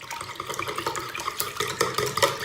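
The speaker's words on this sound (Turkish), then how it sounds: "Hemen bunu şöyle bir çırpacağız, birbirine bir alıştıracağız." A whisk beats a wet cheese and salt filling for börek in a bowl, close and quick, with a continuous sloshing churn and no talk.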